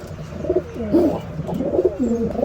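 Domestic pigeon cooing close by, several soft rolling coos in a steady rhythm, with a faint chatter of other birds behind and no voices.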